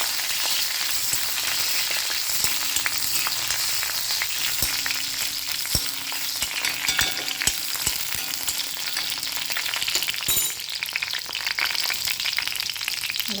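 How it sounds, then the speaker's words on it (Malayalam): Dried red chillies fry in hot coconut oil with a steady, dense sizzle and crackle that runs throughout, loud and close, with a few sharp pops and stirring clicks and no talking. "വെളിച്ചെണ്ണ ചൂടാകുമ്പോൾ നമുക്ക് ഉണക്കമുളക് ഇട്ട് കൊടുക്കാം."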